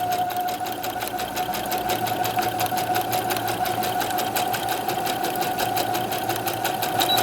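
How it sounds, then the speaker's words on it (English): A sewing machine stitches a pocket flap on a jumpsuit, right over the pins, with a steady rapid mechanical chatter of needle strokes running continuously at moderate volume, close by. "I stitch right over the pins."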